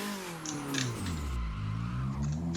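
A car's engine eases off as the driver slows and shifts into second gear on the Okuibuki course, with pitch falling and then steadying at a moderate, close engine hum.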